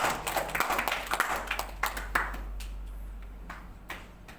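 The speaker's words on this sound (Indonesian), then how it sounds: "Beri aplaus untuk kita semua." A class claps together in a classroom during a micro-teaching lesson, a burst of uneven hand claps close by that fades out over a few seconds with a few stray claps at the end.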